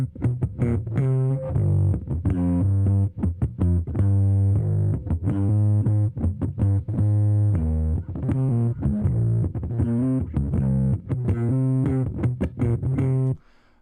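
A bass line from an indie pop song plays on its own as a punchy, rhythmic sequence of short, repeated notes, close and steady with brief gaps, ending suddenly.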